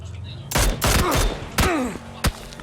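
Gunfire in the battle-royale game PUBG Battlegrounds, several loud bursts of shots in quick succession, with ricochet-like whines between them and a last single crack near the end.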